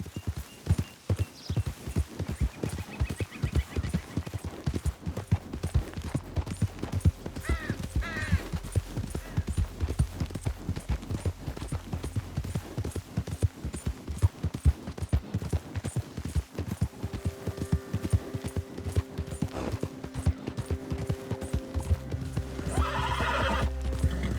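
Horse in Red Dead Redemption 2 gallops with steady rapid hoofbeats throughout, broken by a few whinnies and neighs, set against game ambience and music with no talking.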